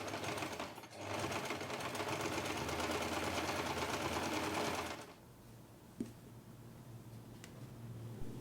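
A sewing machine stitching the corners of a fabric basket gives a close, even mechanical whir for about four seconds, then stops, leaving a faint room hush with a single small click.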